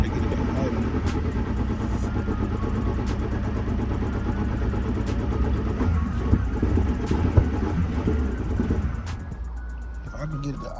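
Ford Grand Marquis engine misfiring as it struggles to idle, a rough, uneven rumble with irregular stumbles and a steady low drone, close by, with someone talking over it.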